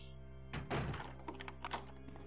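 A door in Resident Evil 2 being locked gives one heavy, close thunk followed by a couple of softer clicks over a steady, low background hum.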